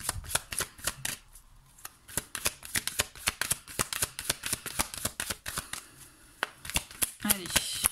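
A deck of oracle cards is shuffled in repeated quick riffles, crisp and close, with short pauses between bursts and a voice heard faintly in the background.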